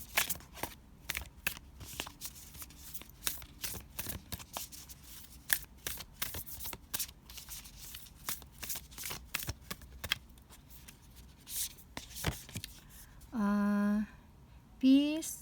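Oracle cards being shuffled, a long run of crisp, irregular riffling snaps and flicks up close, ending with a couple of brief tonal chimes.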